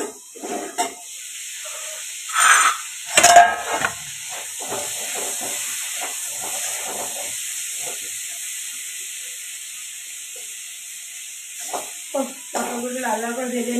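Food frying in a pan in a home kitchen, a steady broad sizzle and hiss running throughout, with brief louder bursts from stirring and a voice speaking over it at times.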